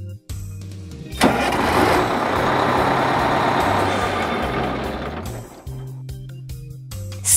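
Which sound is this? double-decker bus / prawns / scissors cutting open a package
double-decker bus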